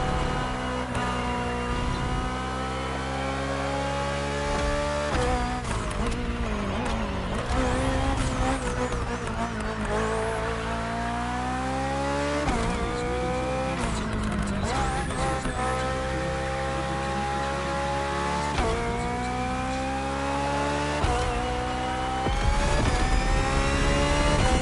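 Hybrid V8 race car engine at full race pace in The Crew Motorfest, revving loudly and continuously with rising and falling pitch through gear changes, plus occasional tire squeal, with no talk.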